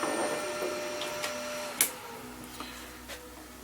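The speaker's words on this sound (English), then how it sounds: "And end the thread, slow down the machine." A machine cutting a thread on a part for a 1933 Sunbeam Model 8 350cc motorcycle engine rebuild, a steady, loud mechanical whir with a sharp click partway through as it slows.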